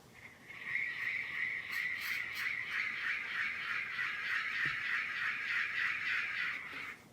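A steady rasping, croaking drone with a rapid ratcheting pulse from a folk toy imitating a frog, continuing for several seconds with no talking.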